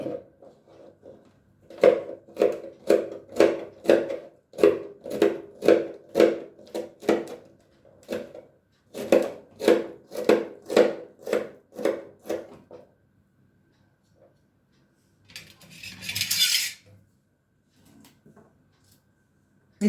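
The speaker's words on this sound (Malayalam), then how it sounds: "ഒരു വെണ്ടയ്ക്കനെ നാലായി കട്ട് ചെയ്യുക" Okra pods are sliced lengthwise into quarters with a knife for an okra vada, giving two runs of crisp, evenly spaced chops on a board, then a brief rustle and quiet.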